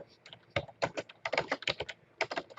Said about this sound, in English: you can just type out the words